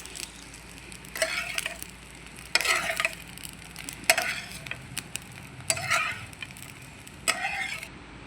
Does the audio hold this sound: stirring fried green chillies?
yes